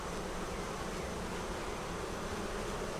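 A dense, steady buzz from honeybees clustered on a brood frame of foundation in an open hive, continuous and close throughout with no pauses.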